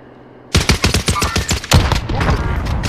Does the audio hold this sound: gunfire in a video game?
yes